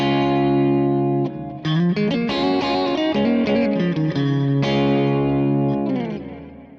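Electric guitar run through a Kemper Profiler Stage and recorded from its XLR main outputs into a Lynx Aurora converter, sustained chords and melodic lines with distortion, chorus and some echo, loud and alone.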